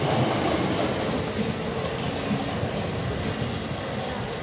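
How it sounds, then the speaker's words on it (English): A commuter train at Worcester Park station rumbles past nearby with a dense, steady roar of wheels on rails and faint clattering throughout. "Commuter train."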